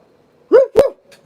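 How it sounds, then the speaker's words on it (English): A dog gives two loud, close barks in quick succession, followed by a faint softer yip, against near silence. "Some kind of dog."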